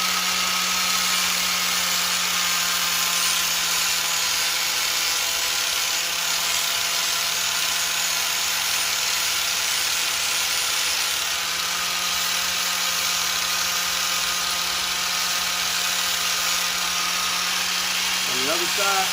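A power tool sharpening a dull lawn mower blade runs continuously with a loud, steady high grinding whine and engine-like hum.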